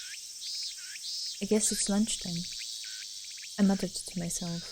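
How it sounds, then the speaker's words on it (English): Cicadas drone outside in a steady, high-pitched, shimmering buzz with a few rising chirps in the video game Ef: The Latter Tale, running beneath a spoken line of dialogue. "I could hear the cicadas outside."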